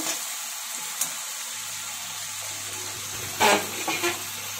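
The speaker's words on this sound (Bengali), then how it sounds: "কাঁচা লঙ্কা, আদা আর এই যে পেঁয়াজ, হলুদ সব একসাথে করে ভালো করে মশলাটাকে কষিয়ে নিব।" Masala of green chili, ginger, onion and turmeric frying in a pan, a soft steady sizzle with a low hum and a few brief louder stirring or scraping bursts, no talk.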